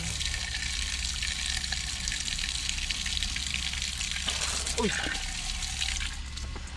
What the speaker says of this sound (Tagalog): Lagyan lang natin ng tubig mga katunying.